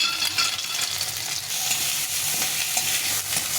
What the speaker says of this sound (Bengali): আদা রসুন কুচি ভাজা ভাজা করে